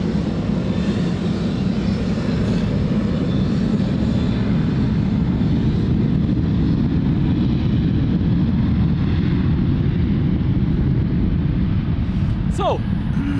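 Ryanair airliner taking off from Lisbon Airport runway 02, a loud, steady broadband jet roar filling the whole stretch without letup.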